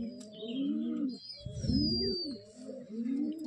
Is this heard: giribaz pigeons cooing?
yes